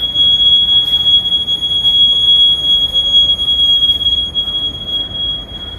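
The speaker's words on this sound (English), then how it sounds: "I hear an alarm going on." A shrill, steady high-pitched alarm tone sounds continuously and loudly over a rough rumbling background, holding unbroken throughout with no speech.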